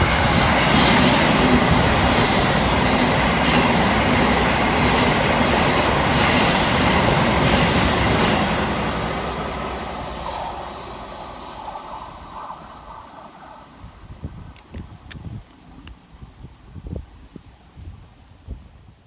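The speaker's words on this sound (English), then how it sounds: "Next to fly through the station for Thameslink is 700 129, working 9J34 from Horsham through to Peterborough." A Thameslink Class 700 train races through Anerley station during a storm, first a loud rushing roar, then a fade over several seconds into quieter patter and scattered knocks, with no voices.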